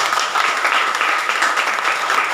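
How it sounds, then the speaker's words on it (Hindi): Audience applause at an institute event in North India, a dense, steady wash of many hands clapping throughout, loud and close with no break. "इसके लिए आप तालियां।"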